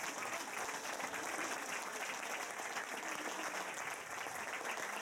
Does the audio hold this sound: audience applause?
yes